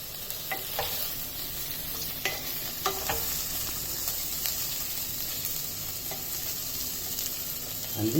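Beans, onions and carrots fry in a hot pan for Tamil Nadu style veg biryani, a continuous close sizzle broken by occasional sharp scrapes and clicks of stirring.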